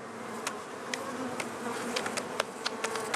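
Honeybees buzzing inside a crowded hive of about thirty thousand bees, a dense continuous hum with occasional sharper clicks and taps from close by, no voices.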